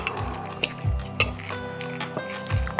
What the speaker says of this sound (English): And stir it up.